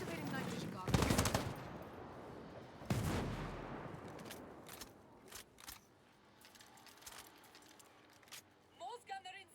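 Machine gun fire in the video game Ghost Recon Breakpoint comes as two loud bursts of rapid shots, followed by scattered clicks and mechanical sounds, with voices talking throughout.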